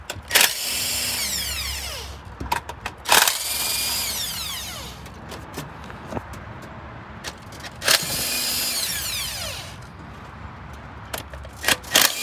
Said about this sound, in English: Just gonna take all the bolts out.